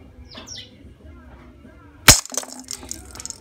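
A glass Christmas ball is shot with a pellet gun: one sudden loud crack with a bright shattering burst, followed by tinkling fragments and faint rattles, after quiet room tone and brief distant chirps.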